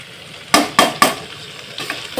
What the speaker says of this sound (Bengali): হালকা একটু ভেজে নেব পাঁচ মিনিট ভেজে নিয়ে আমি আবার ফিরে আসছি